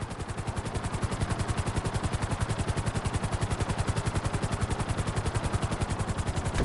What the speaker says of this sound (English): chopper at full speed!